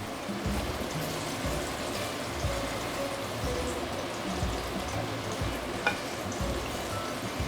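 Seafood tofu deep-frying in hot oil, giving a dense, continuous crackling sizzle that stays close and steady with a few brief pops and no voices.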